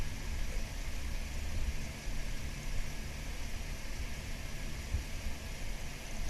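A parked car's engine runs steadily at idle, a low continuous hum with broad hiss on top, moderately close and unchanging throughout.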